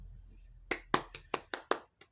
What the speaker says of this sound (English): And Grace applauds.